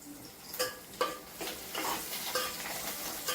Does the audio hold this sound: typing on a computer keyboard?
no